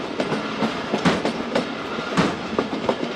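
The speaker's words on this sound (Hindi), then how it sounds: "ये हमारी ट्रेन गोलाई से उतर रही है" A passenger express train rounds a curve in mountain country, its wheels beating a steady, loud clickety-clack over the rail joints amid a continuous rumbling roar, with no talking.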